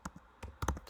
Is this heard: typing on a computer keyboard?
yes